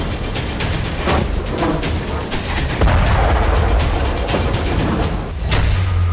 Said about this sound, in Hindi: क्रीमिया के नोवो जर्नी में धमाका हुआ।